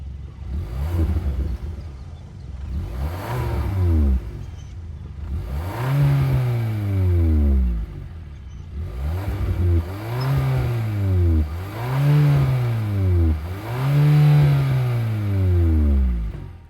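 The 1.6-liter turbo engine of a 2023 Kia K5 EX revved repeatedly while parked, a series of rising and falling blips that swell louder, heard close with no talking.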